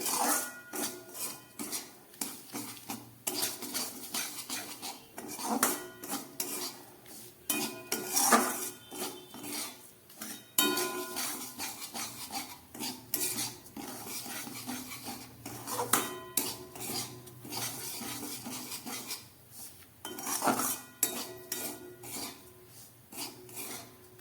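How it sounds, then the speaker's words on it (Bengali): A spoon scrapes and clatters steadily against a metal pan, roasting semolina in repeated strokes, a dry rasping stir continuing without pause for a long stretch. "ওইদিকে আমার সুজিটা ভাজা হচ্ছে"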